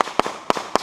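A rapid string of loud, crackling firecracker pops goes off nearby at an outdoor family reunion in July, in uneven bursts, with no voices.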